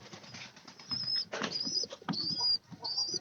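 Pigeons in a loft feed their chicks, with fluttering wings, soft shuffling and scrabbling, and thin high-pitched chick squeaks coming in short bursts, fairly close but quiet.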